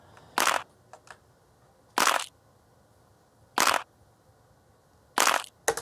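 Four sharp, bright pitched-down snap samples, layered as a snare in Bitwig Studio, land at a steady interval, each a short crisp crack with a few faint taps between them.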